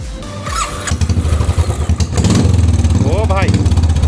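A Royal Enfield motorcycle with no silencer fitted is started, giving a few uneven coughs and then catching into a loud, rapid, raw exhaust thump right nearby, while people talk over it.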